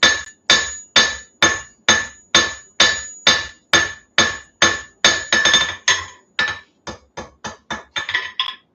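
Sharp, ringing blows from a cross peen hammer stretching the edges of hot metal, forging a wheat twist. About twenty evenly spaced strikes land close and loud, speeding into a quicker, lighter run near the end.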